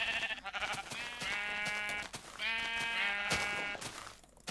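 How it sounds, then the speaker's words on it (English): Minecraft sheep bleat loudly in two long, wavering calls close together, set against quick clicks and taps from the game, with no talking. "I hate these sheep, and they run."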